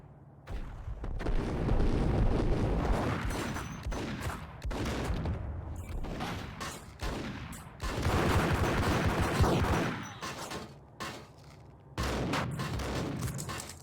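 Dense bursts of gunfire from the Max Payne video game, loud and sustained in waves with brief lulls between volleys, heavy booming shots and rapid automatic fire layered together.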